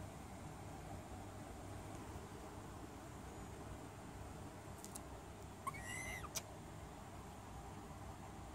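A barn owl calls once, a short wavering screech standing out briefly against a steady low hum with no talking.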